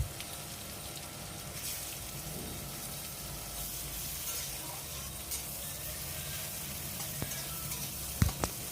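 Chopped medium onion with whole cumin seeds frying in hot oil, a steady close sizzle that holds throughout, with a few sharp utensil clinks near the end.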